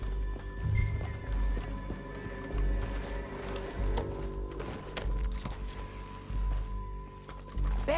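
Horse hooves in Red Dead Redemption 2 clatter in a fast, steady gallop amid rumbling background noise and faint clinks, sustained throughout.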